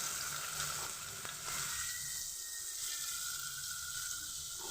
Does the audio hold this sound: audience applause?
no